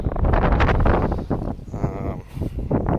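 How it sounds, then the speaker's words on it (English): Gusty wind buffets the microphone in loud, rumbling bursts that rise and fall, with no voices. "Sorry about the wind."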